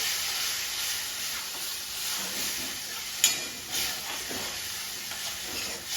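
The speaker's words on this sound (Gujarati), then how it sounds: "ટામેટાની ગ્રેવી નાખી દીધી. હવે પાકવા દેવાની છે એને થોડી" Tomato gravy with curry leaves cooks in a pan for a Kathiyawadi onion sabzi, giving a steady, close sizzle and bubbling hiss throughout, with a brief clink of a utensil partway; no one speaks.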